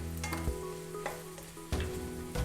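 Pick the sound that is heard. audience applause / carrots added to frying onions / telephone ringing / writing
carrots added to frying onions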